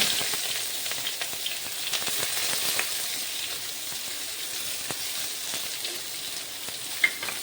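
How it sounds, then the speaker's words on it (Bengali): Chopped onions fry in a pan, giving a steady bright sizzle throughout with faint stirring scrapes and one small sharp click near the end. "পেঁয়াজগুলি আমি লাল লাল করে ভেজে নেব"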